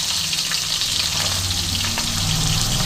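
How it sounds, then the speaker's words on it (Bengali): Fish swim bladder frying in hot oil in a home kitchen pan, a loud continuous sizzle with crackling pops and some stirring scrapes, no voices. "এই পটকা কিন্তু তেলে যতক্ষণ থাকবে এটা কিন্তু ফুটতে থাকবে"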